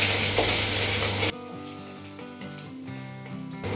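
Black pepper, cumin and garlic sauté in hot oil for a vallarai keerai soup, giving a loud, close crackling sizzle for just over a second that then cuts off into a much quieter, tonal background.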